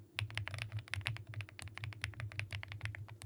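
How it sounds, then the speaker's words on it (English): Typing on a creamy-sounding mechanical keyboard, with rapid, irregular keystrokes close up and soft, with a low hum underneath. "So my keyboard is more of creamy sound."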